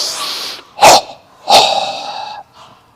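Forceful yoga breathing, a few strong nasal exhalations in close succession, the second one longer and trailing off into quiet, heard up close with no talking.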